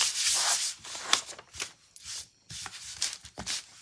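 Hand rubbing over a freshly coated wood door hanger to knock down raised fuzzy grain: close, dry scrubbing strokes in uneven bursts with short pauses between, no voices.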